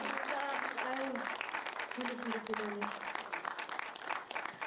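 Audience applause at a memorial event and talk concert, a steady wash of clapping from a seated crowd with a voice speaking over it for most of the stretch.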